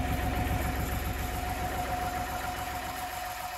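Snow plough truck engine idling while the cab warms up, a steady low mechanical rumble with a faint whine, continuous and fairly quiet, with no speech.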